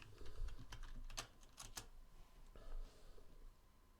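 Fingers type on a computer keyboard in quick, light clicks, some in short clustered bursts, quiet and close, with no talking.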